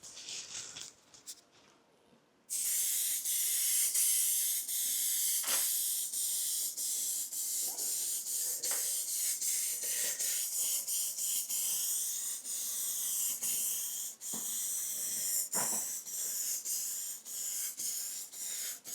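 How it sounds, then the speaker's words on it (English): An aerosol spray can paints the rear corner of a Mazda MX-5. After a brief quiet start, a continuous close hiss runs on, broken by short pauses and small knocks. "That was literally for a second I sprayed."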